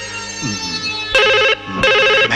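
An electronic telephone ringtone in a Hindi movie scene trills in two loud, close bursts after a few sustained musical tones.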